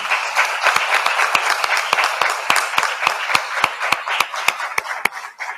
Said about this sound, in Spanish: solicito un aplauso para todos nuestros intervenientes